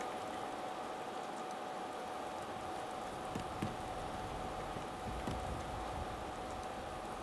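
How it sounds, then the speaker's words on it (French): Steady, even hiss of rainfall in Skyrim pattering continuously, with a few faint soft thumps underneath and no voices. "Bah non, en fait, il pleut juste."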